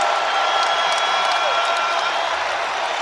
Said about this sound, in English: Listen to this crowd, Wes.